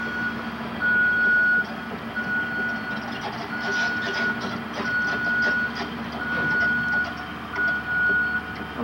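Steady, evenly spaced electronic beeps of a reversing vehicle's alarm repeat over a low engine rumble at a building demolition site in Owatonna, Minnesota, with a quiet voice speaking now and then.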